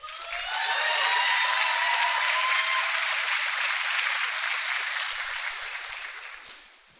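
A large commencement audience claps warmly to welcome two graduation speakers, a dense, even wash of applause that swells quickly, holds steady for several seconds, then tapers off at the end.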